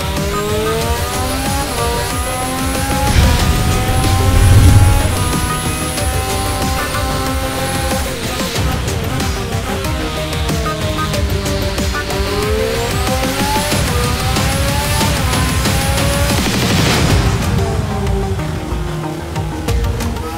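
A high-pitched 2014 Renault Energy F1 turbo engine screams at full revs through repeated accelerations and gear changes, rising and falling in pitch, loud and continuous throughout.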